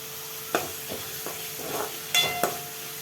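Beans, carrot, capsicum and mushroom fry in a pan for mushroom rice, with a steady close sizzle broken by a few scraping stirs.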